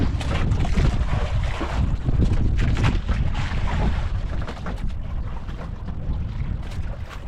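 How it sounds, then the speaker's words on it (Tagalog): Strong wind roars and buffets steadily across the whole stretch, with a low rumbling drone and gusty surges, no voices. "Lakas ng hangin"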